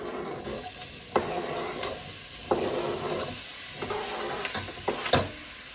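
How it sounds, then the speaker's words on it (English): Red and sweet white onions sizzle in butter in a pot for French onion soup, a steady hiss with periodic spoon knocks and scrapes against the pot as they are stirred, close and without voices. "we're going to add our onions to the butter."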